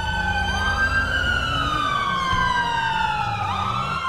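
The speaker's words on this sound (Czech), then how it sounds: "vypněte sirény, nejdete nic slyšet" A police siren in a roleplay video game wails continuously during a shootout at a restaurant, its pitch sweeping up and down over a low engine rumble, loud and close throughout.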